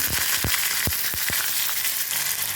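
Steady sizzling of chopped onions frying in hot oil, with a few sharp crackles and pops near the start over a continuous hiss.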